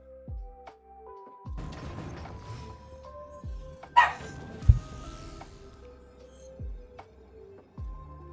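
Several dogs barking and yipping in short bursts through the scene, with a whimper and a sharp clatter midway, fairly close and moderately loud, no speech.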